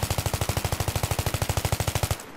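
Rapid automatic gunfire from the video game Battlefield 3 rattles out in an unbroken burst of about two dozen evenly spaced, loud, close shots, then cuts off abruptly.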